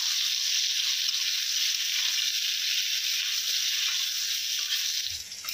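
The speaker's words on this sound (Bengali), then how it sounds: "মা এখন বেগুন ভাজছে" Eggplant slices frying in a pan for a home-cooked Bengali meal, a steady, loud sizzle and crackle of oil that holds constant throughout, with no talk.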